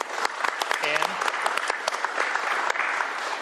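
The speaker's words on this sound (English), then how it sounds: "A round of applause for all of those folks who work so hard" Crowd claps at a governor's bill-signing event, a brisk, even patter of applause with a short cheer or whistle rising early on, filling the whole stretch.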